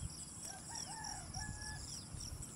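Chickens cluck and a rooster crows faintly in the distance over a steady outdoor background hum on a farm, with a few short calls scattered throughout.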